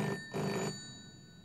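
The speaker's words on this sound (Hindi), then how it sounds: "मैं कई दिनों से देख रही हूँ कि रोज इसी समय डिनर पे ये ब्लैंक कॉल आता है।" A telephone rings at dinner time in two short, bright bursts of bell-like tone with a brief gap between them, fairly close and clear, then fades into quiet.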